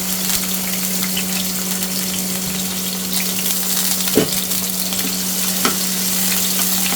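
Garlic frying in hot oil in a pan for a beetroot stir-fry, giving a loud, continuous close sizzle with a steady hum beneath and a couple of brief clinks from stirring.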